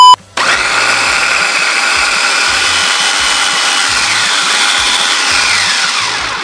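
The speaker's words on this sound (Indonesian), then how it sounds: "kasih minyak dikit, terus kita haluskan" An electric blender grinds candlenuts with a little oil into a red spice paste, a steady loud whirring motor drone that starts abruptly after a brief pause and runs continuously without talk.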